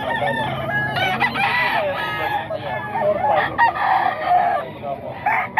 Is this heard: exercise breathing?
no